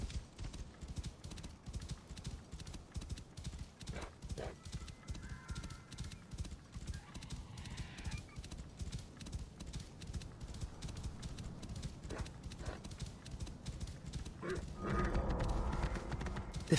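A horse in Assassin's Creed Origins, Curse of the Pharaohs, with steady rhythmic clip-clop of hooves throughout, occasional faint whinnies, and a rougher swell near the end.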